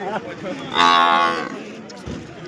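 A buffalo at a cattle market in Mansa lets out a single loud, drawn-out moo at close range, with quieter background sounds before and after.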